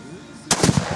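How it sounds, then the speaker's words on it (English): A one-pound Tannerite charge packed inside a mannequin detonates in a single sharp, loud blast about halfway through, cutting through quiet outdoor background and trailing off in a rumbling echo. "we're going to have another mannequin explosion"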